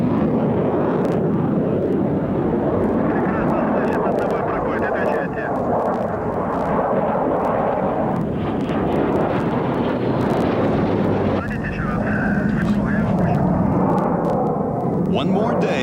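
A MiG-29 fighter jet roars steadily and loudly throughout, a broad continuous engine and wind rumble with a voice talking over it.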